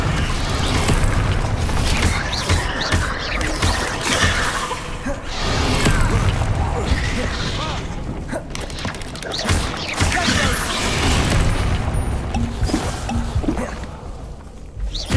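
Repeated Bombarda blasting spells in Hogwarts Legacy: dense, continuous rumbling booms and crashing debris with creaks, loud and sustained throughout.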